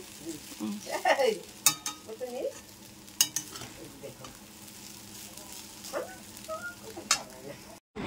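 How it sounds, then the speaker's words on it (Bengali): Rice frying in a pan with salt and sugar, a quiet sizzle with intermittent stirring scrapes and clinks, close and fairly faint. "এখানে দেখতেই পাচ্ছ আমার ভাত ভাজা"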